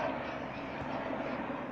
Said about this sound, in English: One second, a helicopter's passing